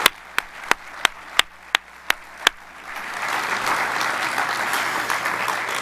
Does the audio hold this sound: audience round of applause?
yes